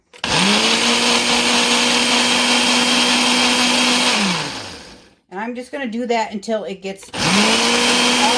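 A kitchen blender whirs loudly and steadily, breaking down a flax mixture used as an egg substitute for vegan cookies. It stops for a brief stretch of talk, then starts up again at full volume.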